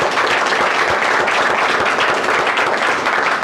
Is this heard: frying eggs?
no